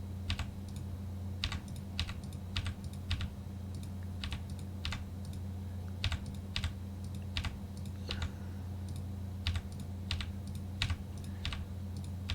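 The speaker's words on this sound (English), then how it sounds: "All you have to do is hit the delete key on your keyboard." Computer keyboard keys clicking in an irregular series of sharp, close taps over a steady low hum, with no talking.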